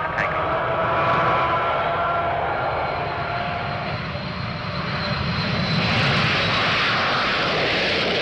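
A BAC One-Eleven jet aircraft takes off with a loud, steady engine roar that swells and brightens toward the end, continuous throughout with faint radio chatter beneath.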